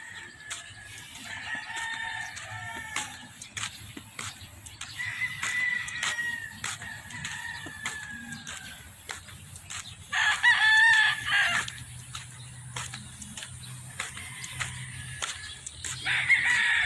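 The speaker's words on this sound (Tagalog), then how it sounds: "mga manok na mga panabong" Fighting cocks at a nature resort crow repeatedly and cluck, with several overlapping birds near and far and a loud crow near the middle.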